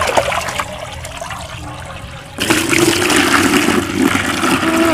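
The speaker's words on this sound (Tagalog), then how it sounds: "Itong tubig namin dito, sa tubig ulan, galing sa water tank doon sa loob." Rainwater runs from a water tank in a steady splashing stream, quieter at first and then louder and fuller, with no talking over it.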